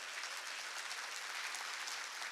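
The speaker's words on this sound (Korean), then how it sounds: "박수로 하나님께 영광 돌려줘요" Church congregation clapping in praise during a revival service, a steady, moderately distant wash of many hands clapping continuously.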